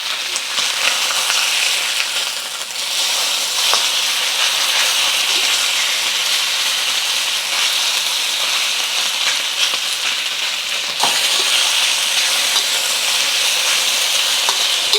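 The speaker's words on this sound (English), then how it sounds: "Just gonna let it sear for about a minute, just to get them kind of cooked on one side before flipping it over" Chicken pieces for cashew chicken sear in a hot pan, giving a loud, close, unbroken sizzle with crackling spatter throughout and no talking.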